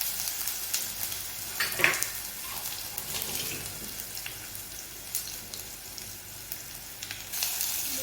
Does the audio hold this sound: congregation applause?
no